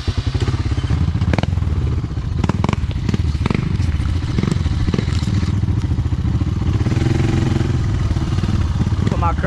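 A Honda 300 ATV on new tires, in four-wheel drive, churns through a muddy pond, its engine droning steadily beneath splashing, clattering thumps and scrapes, loud and close throughout, with a rider's voice heard over it.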